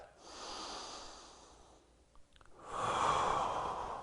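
A slow, deep yoga breath, a long airy inhale, a brief pause, then a fuller exhale, close and soft with no words.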